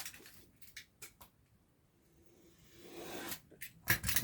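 Short scissor snips and rasping scrapes cut through a clear plastic sleeve, coming in a few quick bursts with quiet gaps between them, close and fairly faint in a quiet room.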